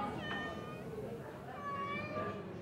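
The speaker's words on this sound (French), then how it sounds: "150 chats cohabitent ici." Several cats meowing at an animal shelter, a few drawn-out cries overlapping against a faint room background and quiet talk.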